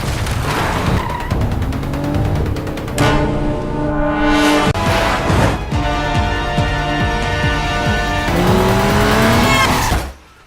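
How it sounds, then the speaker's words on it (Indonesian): Cars in a chase scene roar and accelerate, with long, loud tire squeals rising and falling over sustained engine noise, ending abruptly. "Ia pun kemudian kabur melarikan diri hingga terjadilah aksi kejar-kejaran antara mereka."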